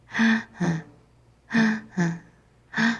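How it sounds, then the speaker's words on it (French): A woman practices quick panting breaths as rehearsed for long labor contractions, five short sharp voiced puffs in two spaced groups, close and clear with nothing else around them. "Vous allez faire la respiration haletante que vous pratiquerez pendant les plus longues contractions"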